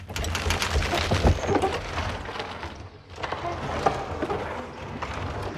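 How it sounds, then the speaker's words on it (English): Layered wooden creaks and groans from a medieval trebuchet in Kingdom Come: Deliverance 2, a dense and continuous texture of rubbing and straining timber that briefly dips near the middle before building back up. "Here we have the trebuchet sound, starting with wooden layers."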